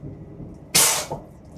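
Warm water bursts briefly from the tap into the toilet sink aboard an East Midlands Railway Aurora train. It is a single short, close gush under a third of a second long, heard alone without speech.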